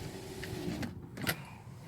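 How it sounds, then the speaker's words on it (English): Power windows on a parked taxi sliding up after parallel parking, a brief soft electric motor whine with faint clicks as the glass seats, heard close inside the car with no talk. "Oh, windows up."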